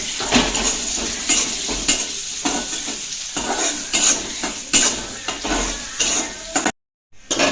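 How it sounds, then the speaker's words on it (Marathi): Onion and green chili frying with garlic in hot oil for a drumstick-flower bhaji, a steady close sizzle broken by repeated stirring scrapes and a few utensil clinks, with a brief dead gap near the end. "तेल तापला त्याच्यामध्ये थोडा लसूण टाकला आणि आता कांदा आणि मिरची"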